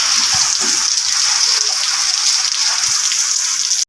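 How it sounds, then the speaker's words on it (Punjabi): Heavy monsoon rain in Punjab pours down steadily in a dense, hissing wash, loud and unbroken, with faint scattered drips beneath. "ਬਾਕੀ ਦੇਖਦੇ ਆ ਜੀ ਕਦੋਂ ਹਟਦਾ ਨਹੀਂ ਹਜੇ ਕੋਈ ਨਾਮ ਨਹੀਂ ਲੈ ਰਿਹਾ ਹਟਣ ਦਾ"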